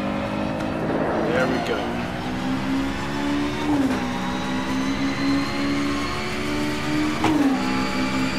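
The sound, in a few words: car engine with manual gear shifter in rFactor 2 video game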